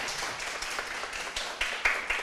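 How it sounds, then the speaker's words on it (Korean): A hall audience at a forum closing ceremony gives thanks with steady applause. The clapping is moderately loud and continuous, with a few sharper, closer claps near the end. "감사의 박수 부탁드립니다"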